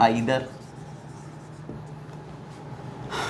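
A pen or marker writes out a quadratic equation working by hand, making faint continuous scratching and rubbing strokes close by, with brief louder touches at the start and end.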